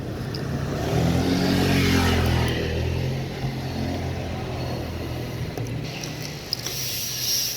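A car ride along Aurora Boulevard toward Robinsons Magnolia mall, heard from inside the cabin. The engine hums steadily and swells with a brief rev early on, then settles into a constant road drone with no talking.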